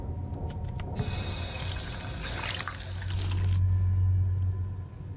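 A tap runs in Fallout 4, pouring a steady rushing stream that starts abruptly, holds for a few seconds and cuts off, leaving a low hum behind.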